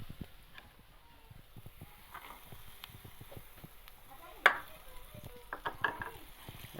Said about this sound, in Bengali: এটা একবারে মটরশুঁটিটা দিয়ে দিই